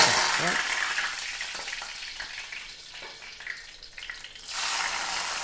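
Loud, crackling sizzle of curry leaves hitting hot oil in a pan, bursting at first, easing briefly, then surging again near the end; close up, no voices.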